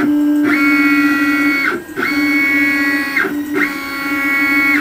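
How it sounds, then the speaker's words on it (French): A CNC router's stepper motors whine steadily as the machine travels toward its homing switches, three long tonal runs separated by brief pauses, loud and close. "Je vais faire venir la machine pour qu'elle bute dans les switches, pour qu'elle trouve sa position 0"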